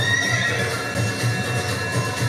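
A horse neighs amid steady clip-clop and a dense, busy background, heard at moderate distance with no talk.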